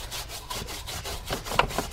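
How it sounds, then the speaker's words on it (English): A detailer brush scrubs the dirty carpet of a Honda City in quick rhythmic back-and-forth strokes, a close, loud bristly rasping with no voices. "where stubborn dirt is there, I am using a detailer brush"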